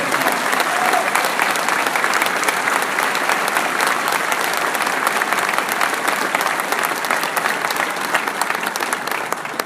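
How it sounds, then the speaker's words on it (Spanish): Sustained applause from a large audience at a senator's public report in Ciudad Victoria, Tamaulipas, a thick continuous wash of clapping holding steady for nearly ten seconds. "esa visión es digna de aplauso, y por eso un aplauso para Enrique Peña."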